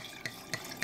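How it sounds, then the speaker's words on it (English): Wine poured into a glass: three soft, brief glugs, evenly spaced and close by, with a quiet liquid trickle between them and no talking. "I ain't mean to pour that much."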